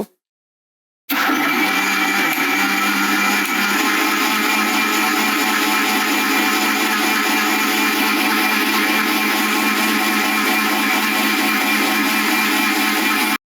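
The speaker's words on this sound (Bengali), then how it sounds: "এখন আমি বাকি দুধটুকু দিয়ে দিব, তারপর ঢাকনা লাগিয়ে আবারও ভালোভাবে ব্লেন্ড করে নিব।" A kitchen blender whirs loudly and steadily as it blends bananas with milk into a milkshake, starting abruptly after a short silence and running at an even, high-pitched roar to the end.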